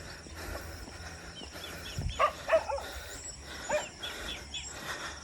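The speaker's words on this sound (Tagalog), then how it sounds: "May aso tsaka baka." A dog barks outdoors, a few scattered short barks at moderate distance mixed with faint bird chirps and ambient noise.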